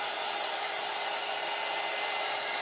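A handheld craft dryer runs steadily with a loud, continuous airy whir and no break, heard alone at close range.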